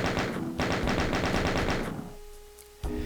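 Rapid machine gun fire from gunner enemies in Doom II, a loud, dense stream of repeated shots in two bursts with a short gap between them, then fading into quieter game ambience before a final shot.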